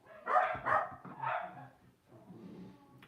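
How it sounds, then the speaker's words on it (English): Two dogs bark in a burst of several loud, close woofs over the first half, then lower whimpering yips trail off, with no talking. "My dad managed to successfully set 2 dogs off."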